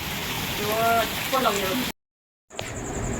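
Steady rain hisses throughout as a voice talks over it; the sound cuts out abruptly, then the downpour returns.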